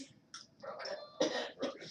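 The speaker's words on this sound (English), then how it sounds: "Force a cough that actually makes me choke a little" A forced, choking cough in the middle of a tabletop role-playing session, a few rough bursts with throat clearing and a sputtering catch, heard close and alone.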